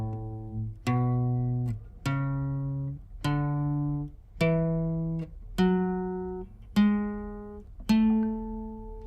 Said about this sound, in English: So it essentially sounds like this on the guitar.